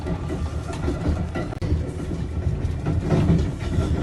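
A subway train runs along the track, a loud, continuous rumble with rhythmic clatter of wheels, heard as playback from a recording with no talking.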